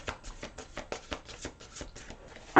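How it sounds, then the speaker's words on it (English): A deck of playing cards is riffled and shuffled in a quick run of crisp, papery flutters, close up, ending in a louder snap as the deck settles. "One more shuffle here, all the way through this deck."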